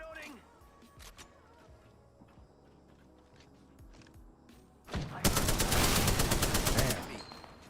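Loud sustained automatic gunfire from Apex Legends weapons, a fast rapid burst erupting mid-clip and running for several seconds after quieter scattered game sounds and footsteps.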